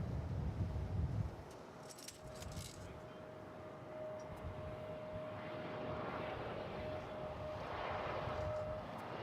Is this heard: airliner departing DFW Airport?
yes